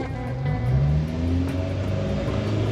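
Subaru Sambar kei truck with a manual stick shift driving from the street toward a garage: a steady close engine drone rises in pitch as the truck accelerates, then drops and climbs again with the shift up to third gear. No talk.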